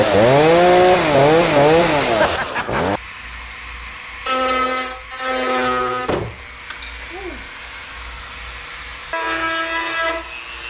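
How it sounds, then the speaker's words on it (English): A Dremel rotary tool grinds the latch slot of a carbon fiber hatch on a 2014 Subaru WRX hatchback, a loud high whine that rises and drops in several separate bursts with short pauses between them. "We're having an alignment issue on the latch. Yeah, so I'm just gonna pretty much Dremel it."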